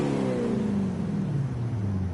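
A 1978 Firebird Trans Am V8 in a video game revs steadily and loudly, its engine pitch sliding smoothly as it runs on with no talk.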